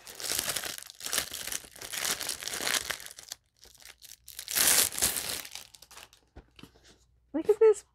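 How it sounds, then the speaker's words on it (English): Packaging on a gift box crinkles and crunches in several loud bursts as it is unwrapped, with short pauses between handlings and a brief voice near the end. "It's going to be crinkling."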